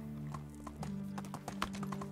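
Horse hooves clip-clop in steady, evenly spaced steps in the medieval life-sim game Medieval Dynasty, with a brief whinny and a low steady hum of game ambience underneath.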